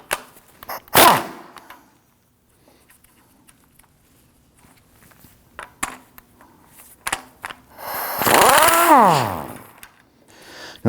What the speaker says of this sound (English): In a 22mm socket, want to go and loosen this nut here.